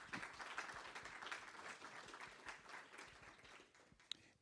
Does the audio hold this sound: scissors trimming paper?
no